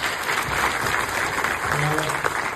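A theatre audience applauds at an event for the Marathi play 'Kutumb Kirrtan', with steady, fairly close clapping that runs throughout while a voice talks over it.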